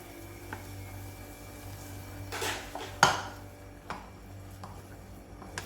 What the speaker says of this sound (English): we have to keep mixing it and make a panade out of it